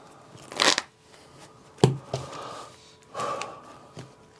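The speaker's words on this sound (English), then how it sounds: "A nice hearty shuffle" A deck of Magic: The Gathering cards gets a few brisk riffle shuffles, three or four short rustling bursts close by with pauses between, and no talk.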